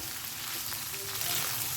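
Pulao rice with peas and raisins sizzles steadily in a hot pan while being stirred, a dense, close frying hiss that swells slightly toward the end.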